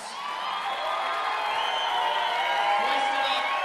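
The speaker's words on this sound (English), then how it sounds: "let's give him another round of applause" A large crowd at a high school victory rally for state basketball champions cheers and whoops continuously, a dense, loud wall of voices with shouting that swells slightly toward the end.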